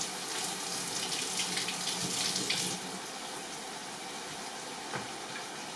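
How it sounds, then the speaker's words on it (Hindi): Tomatoes rinsed under a running kitchen tap, a steady close wash of water spattering into a sink, loudest for the first few seconds and then settling into a softer flow. "और टमेटोज लेट्स वॉश देम"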